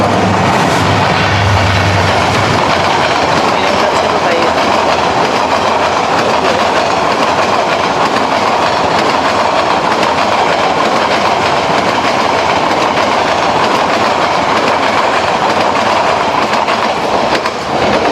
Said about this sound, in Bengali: আচ্ছা ট্রেনটা চলে গেল